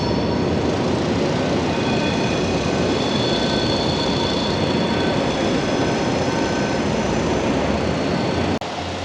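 An InterCity train departs Amsterdam station bound for Paris, a loud, steady rumble and rolling roar with faint high tonal whine that holds throughout, with a sharp click near the end.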